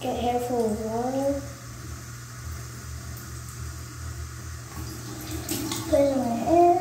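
Water runs steadily from a tap as hair is soaked, a continuous splashing rush beneath a speaking voice that comes and goes.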